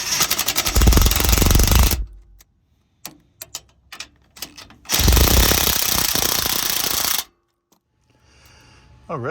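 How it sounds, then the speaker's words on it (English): Impact wrench snugging the tow hook bolts on a 2022–23 Toyota Tundra: two loud, sustained rattling bursts of about two and five seconds, with short hammering taps in between. "once you're started in there pretty good, you can grab your impact or your"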